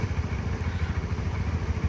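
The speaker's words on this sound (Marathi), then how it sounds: "बघा गाडी सुद्धा चालू करतोय" A motorcycle engine runs close by with a low, pulsing, throbbing rumble, even and unbroken like a steady idle.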